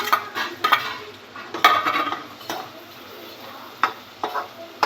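A spoon stirs egg curry masala with boiled, cut eggs in a pan, giving irregular close clinks and scrapes against the metal over a low, continuous sizzle.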